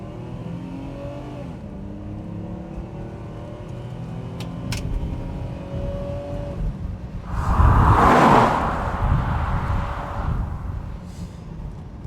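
A Jaguar XJS with a 4-litre engine accelerating through its gears in sport mode, heard from inside the cabin as a rising engine note that drops at each upshift and climbs again, with a louder whooshing surge in the middle, no talking.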